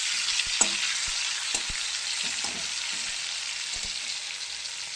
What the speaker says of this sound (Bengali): ভাজা হোক, ভালো করে ভেজে নেব।